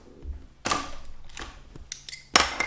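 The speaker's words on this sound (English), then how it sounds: "Right, I'm just going to bring in my smaller scissors" Small scissors snipping card stock while making a turtle gift box, several sharp separate cuts close to the mic with quiet pauses between them.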